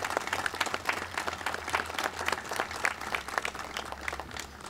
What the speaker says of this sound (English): have everybody give a round of applause for Paige, our singer